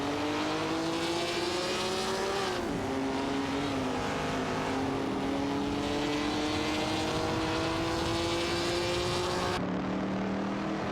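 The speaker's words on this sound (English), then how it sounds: "Racing car dashing away." Racing car engine in a virtual race video game, a steady high whine that climbs through gears with shifts, loud and continuous throughout.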